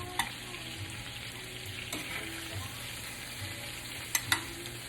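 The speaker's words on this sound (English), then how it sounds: "Chicken has been seared." Chicken pieces searing in a hot pan for 100-clove garlic lemon chicken, giving a steady, soft sizzle with occasional brief stirring clicks near the start and end, no talking.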